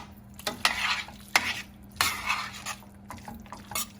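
Orecchiette pasta, veal chorizo and parsley are tossed together in a pan: a low sizzle under repeated spoon scrapes and clinks against metal, a few strokes close by, with no talking.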